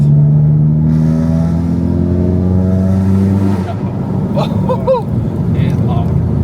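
Straight-piped Volkswagen Scirocco 2.0 TDI diesel exhaust droning loudly and steadily with a rasp, engine note shifting as revs change, while people talk over it.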